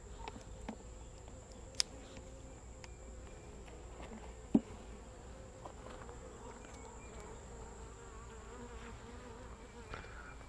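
A steady, dense hum of many honey bees buzzing close by around hive frames, with a few faint taps and clicks scattered through.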